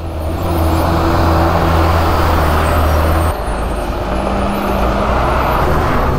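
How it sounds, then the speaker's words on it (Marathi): Heavy trucks roll past one after another on a road near cashew plantations, a loud, close, continuous engine roar and rumble with a brief hiss like an air brake partway through. "ट्रकवर ट्रक येत आहेत"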